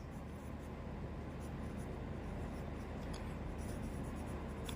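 A pen moves over paper during a geometry lesson, making a faint, continuous scratching rub against a steady low background hum.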